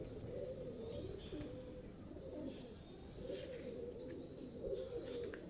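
A pigeon coos in soft repeated phrases, a low rolling call set against faint background chirps, close and steady without speech.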